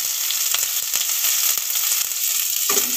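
Onions fry in ghee with mustard seeds in a pan, making a loud, dense sizzle with faint stirring taps, close up and continuous.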